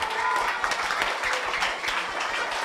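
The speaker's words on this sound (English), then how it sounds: "We applaud you." Audience applause for students at a Cultural Day panel on customs, traditions and the law, a dense steady clapping that stays loud throughout with faint voices mixed in.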